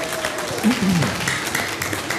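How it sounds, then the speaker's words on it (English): Applause from a church audience forms a soft wash of clapping under a voice, with a few tonal sounds and murmurs poking through, moderately loud and brief. "Give them a round of applause and let them go."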